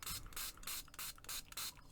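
A spray bottle misting onto a junk journal page gives a quick series of about six short, soft hissing bursts in a steady rhythm, close and quiet.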